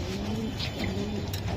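Racing pigeons coo in soft, repeated low phrases close by, with faint background noise and no talking.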